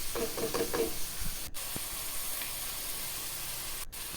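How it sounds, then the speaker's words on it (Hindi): Chicken pieces frying in a pan while being browned for an arvi (taro root) chicken curry, with a steady sizzling hiss and occasional stirring scrapes near the start, no voices. "चिकन को हमने अच्छी तरह भूनना, 3 से 5 मिनट तक भूनना है इसको"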